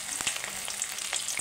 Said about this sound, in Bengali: তেলটা আমার গরম হয়ে এসছে। এবার আমি পকোড়াগুলো দিয়ে দিচ্ছি।